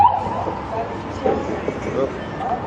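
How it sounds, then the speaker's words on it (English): An ambulance siren wails at moderate distance on the Las Vegas Strip near the Venetian, beneath ongoing speech and traffic noise, its tone rising and falling steadily. "Alright, we got some ambulance coming up behind me here."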